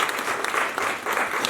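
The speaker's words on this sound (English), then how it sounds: "let's give them a round of applause" Audience applause at a university economics school talk, a dense, steady wash of many hands clapping close by, sustained and fairly loud throughout with no voices over it.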